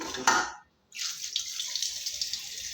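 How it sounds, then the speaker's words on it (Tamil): Fish being scrubbed with rock salt and rinsed under running water, likely in a clay pot, a short splash, a brief pause, then steady close water flow with small trickles. "இன்னொரு முறையும் கல் உப்பு போட்டு தேய்ச்சி கழுவலாம்"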